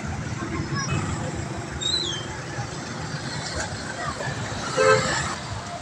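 Slow afternoon street traffic in front of the plaza in Bugallon, Pangasinan, with vehicle horns tooting several times over engine noise and background chatter, the loudest honk near the end.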